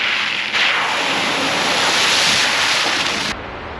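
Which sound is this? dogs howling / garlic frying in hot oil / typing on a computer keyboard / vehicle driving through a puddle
vehicle driving through a puddle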